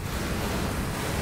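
Wind gusts steadily through a cosmic horror video game with alien themes, a broad, even rushing roar with no breaks over the short stretch.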